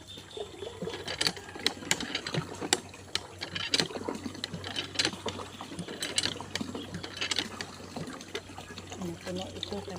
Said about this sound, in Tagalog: Bomba jetmatic.